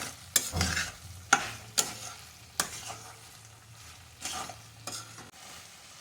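A kharvas vadi mixture being stirred in a pan, with sharp spoon scrapes and knocks against the pan at irregular intervals over a faint background sizzle; no talking.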